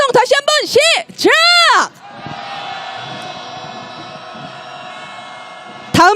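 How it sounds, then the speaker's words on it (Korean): Crowd at a candlelight protest march in Seoul raising a loud, sustained cheer that swells and holds for several seconds after chanted voices, then cuts off abruptly. "힘찬 함성 다시 한번 시작!"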